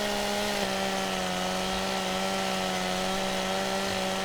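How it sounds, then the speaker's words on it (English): A chainsaw felling a tree in Farming Simulator 2017, droning at a steady, high-revving pitch with a slight shift early on, then holding constant and loud throughout. "Our mighty chainsaw."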